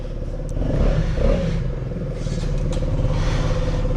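A KTM Duke 200 motorcycle starts up and settles into a steady low engine rumble with some clatter, heard close by outdoors.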